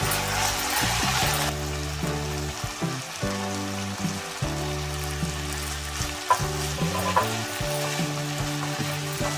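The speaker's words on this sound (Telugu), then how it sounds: "ఇప్పుడు మనం ముందుగా రెడీ చేసి పెట్టుకున్న కొబ్బరి కూర కూడా వేసుకోవాలి" Grated coconut goes into frying capsicum in a pan, and the sizzle swells into a loud, continuous crackle while it is stirred. Steady background music plays throughout.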